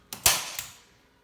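A staple gun firing into canvas stretched over a wooden frame: a sharp metallic snap followed by a second, lighter click, close and loud against a quiet background.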